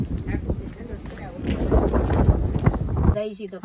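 Strong wind buffets the microphone in a steady low roar, with people talking over it until it cuts away near the end.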